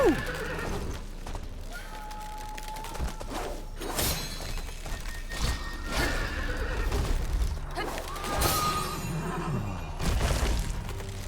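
In the video game Wuchang, a horse neighs and whinnies loudly several times amid clattering hooves, shattering impacts and heavy thuds, all fairly dense and close.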